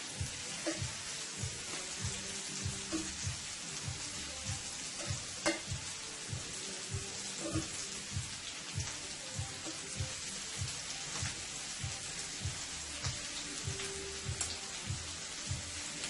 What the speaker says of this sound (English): Shrimp doesn't take long to cook. So we're just going to lay our shrimp there.